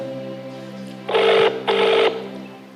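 A telephone rings in two clear bursts, each about half a second long with a short gap between them, over a steady low electronic hum. No one speaks.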